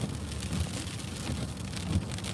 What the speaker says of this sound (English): about to change over from heavy snow into a freezing rain and sleet type of a mixture. You can hear it impacting the windshield.